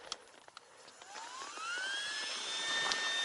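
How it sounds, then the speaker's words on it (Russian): Motor-driven air pump from a motorcycle inflating a mattress at a roadside camp, a steady whine rising in pitch and then holding level, growing louder and continuous over a few seconds, with scattered small knocks near the start. "Я подогнал мотоцикл, подключил сейчас насос."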